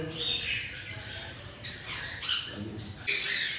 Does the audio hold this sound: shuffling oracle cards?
no